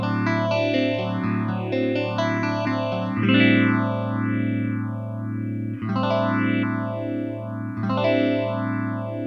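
A phaser on its lower range setting sweeps slowly through a sustained, distorted tone, giving a rolling whoosh that rises and falls in repeated waves with chorus-like shimmer and no voices.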